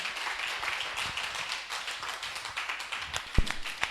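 A church congregation claps together in thanks to God, a dense, steady patter of many hands with a few sharper individual claps standing out, moderately loud and continuous.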